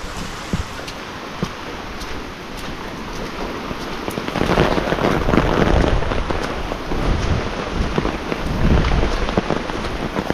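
Heavy rain pours across a bitter gourd farm, a steady dense hiss that grows louder and fuller about halfway through, with occasional low rumbles and no talking.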